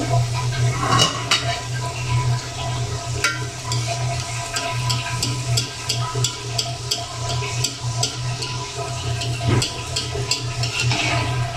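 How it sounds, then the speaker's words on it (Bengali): Mughlai paratha frying in hot oil in a wok, a moderate continuous bubbling sizzle close by, with scattered utensil clinks and a low steady hum underneath. "দেখুন এই পাশে কড়াইতে তেল দিয়ে দিয়েছি, গরম হয়ে গেছে। আমি এখন মোগলাইটা দিয়ে দেব।"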